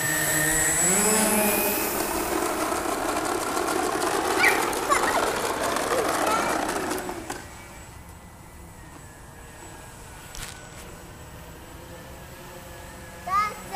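A small quadcopter drone spins up and lifts off, its high whining buzz of rotors loud and close at first, then dropping away as it climbs and fades into faint distant hum.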